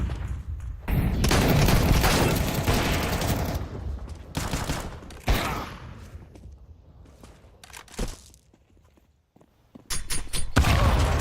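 Grenade blasts and gunfire in a Counter-Strike 2 match, including flashbang and incendiary throws: heavy broadband bursts, a sharp crack near the middle, then fading rumble and a renewed loud burst at the end.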